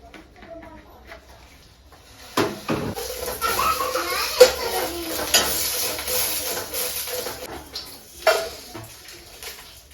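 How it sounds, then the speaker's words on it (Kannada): Chillies frying in a pan rise into a steady sizzle after a quiet start, with stirring scrapes and occasional sharp clinks of utensil on metal, close by. "ಫಸ್ಟ್ ಮೆಣಸನ್ನು ಫ್ರೈ ಮಾಡ್ಕೊಳ್ತೀನಿ."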